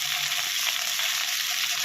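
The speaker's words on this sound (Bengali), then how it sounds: "এখন কফিগুলোকে ভেজে নেওয়া হবে।" Koftas frying in a pan of hot oil give off a steady, dense sizzle with fine crackling throughout, close and fairly loud, with no voices.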